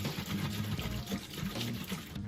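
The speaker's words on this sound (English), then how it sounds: "So you want to shake it for, a good 30 seconds to a minute" A soil sample in a jar of water being shaken hard, giving a steady, close sloshing and churning of liquid that runs unbroken for the whole stretch.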